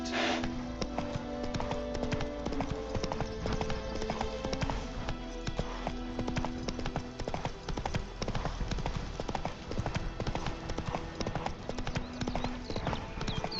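Horse hooves clip-clop steadily at a trotting pace on a hard surface in The Witcher 3 game, loud and close, with a continuous sustained music or ambience bed underneath and no talking.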